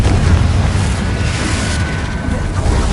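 A Confringo fire-blast spell explodes in Hogwarts Legacy, a dense, roaring boom that fills the whole clip with sustained rumbling loudness and no clear breaks.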